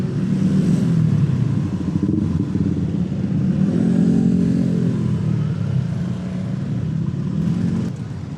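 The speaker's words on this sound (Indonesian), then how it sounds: "Macet di depan pasar Sokaraja, saudara-saudara." Congested traffic of cars and motorcycles in front of Sokaraja market at a junction near dusk, a steady loud rumble of idling and revving engines with clattering motorbikes close by, continuous throughout with no voices.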